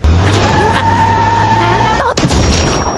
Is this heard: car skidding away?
yes